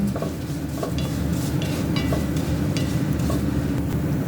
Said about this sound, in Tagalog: Halo-halo lang hanggang maging brown.